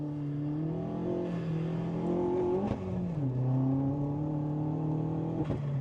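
Vauxhall Astra VXR engine pulling hard around a roundabout, a loud continuous rising drone from inside the car with brief dips at gear changes, no talking.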